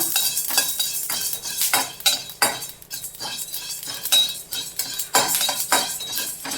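Poppy seeds, cumin and spices being sautéed in a pan, with loud, close metal spoon scrapes and clinks against the pan in an irregular stirring rhythm over a faint sizzle.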